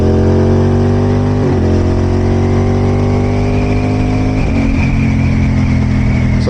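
An Aprilia RS 660 sport bike engine revving under load while riding in commute mode, loud and close, climbing steadily in pitch through the gears with brief dips at two gear changes.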